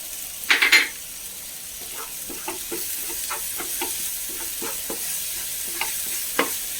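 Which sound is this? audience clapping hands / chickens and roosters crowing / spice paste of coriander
spice paste of coriander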